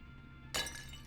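Glass shattering in The Stanley Parable, a single sudden bright crash with a short tinkling tail, standing alone over a quiet low hum.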